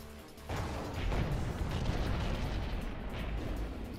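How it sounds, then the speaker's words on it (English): Artillery fire rumbles in World of Tanks, a heavy low boom that kicks in after a brief quiet start and rolls on as a sustained, loud explosive roar. "They probably know they're getting hit by artillery"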